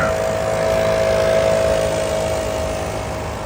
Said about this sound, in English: There's such a big gas shortage that they're even using those leaf blowers with gas.